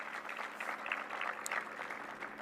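Sustained applause from an indoor audience at a presidential speech on an investment agenda, steady broadband clapping that stays at an even level throughout.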